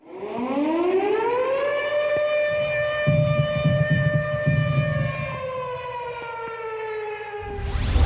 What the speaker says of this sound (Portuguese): outro contínuo para alarme de incêndio